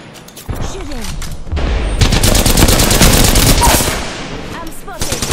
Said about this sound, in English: I'm spotted. The enemies are shooting at me.